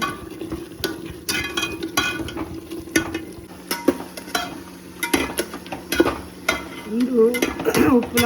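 Spices for tomato rasam tempering crackle and sizzle in hot oil while a utensil stirs and clinks against the pan now and then.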